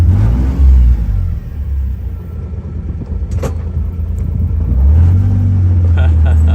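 A utility vehicle (Mule) engine rumbles nearby and revs up louder toward the end, with a low steady drone throughout.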